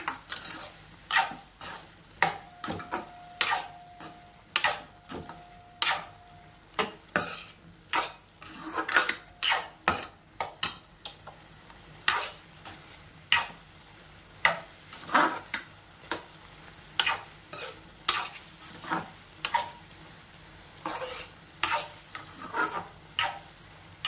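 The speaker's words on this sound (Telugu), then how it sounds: "ఇప్పుడు మళ్ళీ రోస్ట్ చేసుకుందాము." A spoon scraping and stirring mushroom pepper dry as it roasts in a pan, with a steady run of sharp metallic clinks and scrapes against a faint sizzle.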